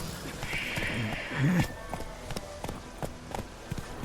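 Horse in The Witcher 3 setting off at a gallop: a whinny, then rapid hoofbeats thudding in a quick rhythm, close and clear over faint ambient game sound.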